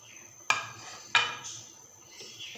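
A spoon knocks twice against a cooking pot while stirring crushed almonds into gajrela, a carrot dessert, giving two sharp metallic clinks about half a second apart, each followed by a soft scrape, fairly quiet and close.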